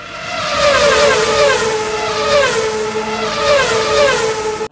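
Formula 1 race cars in the Car Parking Multiplayer mobile game, engines droning loud and steady with rising and falling pitch sweeps as the cars accelerate past, continuous throughout with no talk.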